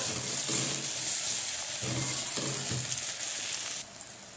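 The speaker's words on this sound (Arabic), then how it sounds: "هشوحه برده كده مع البصله تشويحه كده خفيفه" Tomato and onion sauté lightly in a pan, giving a continuous bright sizzle with soft intermittent stirring scrapes and clatters, fairly close, with no voices.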